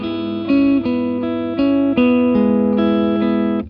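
A quietly played electric guitar on one pickup rings out in clean tone, a run of distinct plucked notes and chords sustaining one into the next, clear and alone with no voice.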